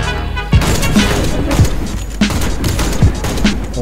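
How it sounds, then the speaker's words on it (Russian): Bursts of gunfire in a shooter video game, several sharp shots spaced about a second apart over a busy game soundscape, fairly loud and up front. "Вот это выстрел."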